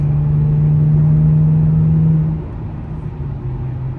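An Infiniti G37 drives at speed, its steady low engine drone and road rumble loud and continuous, dropping slightly in pitch and level partway through as the car eases off.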